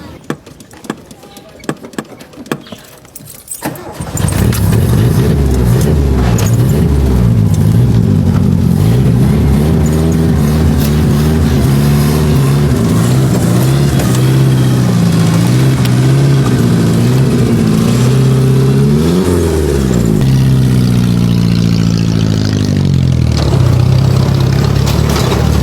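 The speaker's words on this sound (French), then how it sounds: "cette voiture ancestrale roule en pleine ville" An ancient car used as a clandestine taxi in Yaoundé, Cameroon, starts after a few seconds of faint clatter, then its engine runs loud and rough, revving and labouring up close as it drives through city streets.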